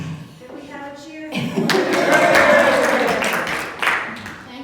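Attendees at a finance and program report meeting break into a burst of applause and cheering that swells and then fades, with a voice talking before and over it.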